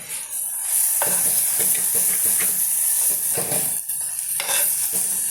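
A spoon stirs a frying cluster bean and small onion curry in a pan just after coriander powder goes in, with continuous close sizzling and hissing and repeated scraping strokes against the pan.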